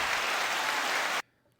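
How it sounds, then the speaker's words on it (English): A canned applause sound effect plays as a full, dense burst of clapping for just over a second, then cuts off abruptly to near silence. "We want to do an applause."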